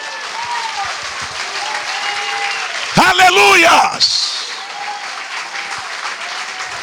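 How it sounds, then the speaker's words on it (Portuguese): A church congregation claps loudly and steadily throughout, with voices talking over the applause and a brief burst of shouted praise in the middle. "Aplauda ao Rei bem forte."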